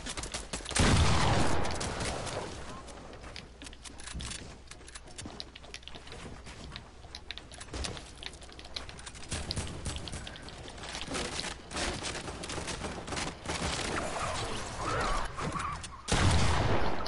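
Gunfire from a new gun outdoors, a dense rapid rattle of shots continuing throughout, loud and sharp, with brief louder bursts.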